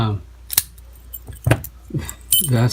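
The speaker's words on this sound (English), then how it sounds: "I haven't even tried these keys yet." Keys jingle and clink in short metallic bursts while a stock padlock is being picked, close to the microphone, with brief voice sounds around them.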